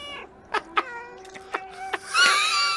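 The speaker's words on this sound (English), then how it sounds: "Pretty much the whole game you can just meow." A cat meows in the video game Stray, giving several short, bright meows in close succession and then a longer, drawn-out meow at the end, close and clear with no talk.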